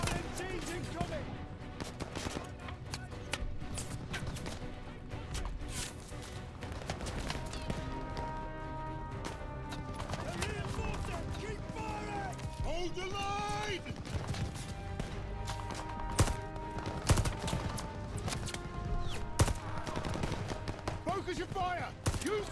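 Machine gun fire crackles in a Call of Duty Vanguard battle against a halftrack gunner, rapid bursts layered under a swelling orchestral score, with voices shouting over the fighting.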